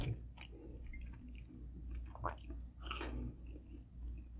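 Someone eating Totino's pepperoni pizza rolls, with close, wet chewing and soft crunching bites in an irregular rhythm over a steady low background hum.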